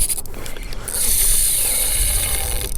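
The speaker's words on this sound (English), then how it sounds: "I'm gonna tighten that drag down" Drag on an offshore kayak fishing reel being tightened while fighting a blackfin tuna off Navarre Beach, Florida, giving a close, continuous ratcheting buzz with a sharp hiss of line.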